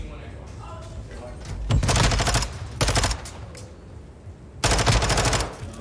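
Rapid automatic gunfire in a Call of Duty Search and Destroy match, loud bursts of machine-gun fire at about two, three and five seconds, with a commentator's voice heard between.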